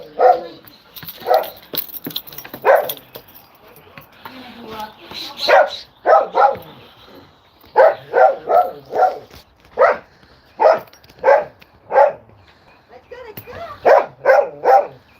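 A dog barking loudly and close in a home, a long run of sharp repeated barks in uneven bursts with short gaps, some yips mixed in, while a person talks.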